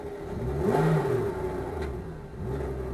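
A racing car engine at Fuji idles and revs, rising briefly to a louder whine before settling back to a steady running drone.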